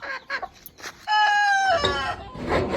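A rooster crows once nearby, a loud drawn-out call after a few short clucks, ending in background rustle.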